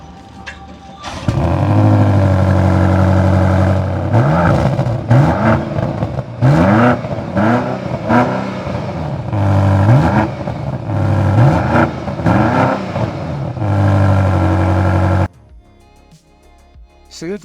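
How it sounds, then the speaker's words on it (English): A BMW XM's V8 engine starts and revs up loudly nearby, with a series of sharp throttle blips rising and falling over a deep rumbling idle before cutting off abruptly. "the car will start up with the V8 engine"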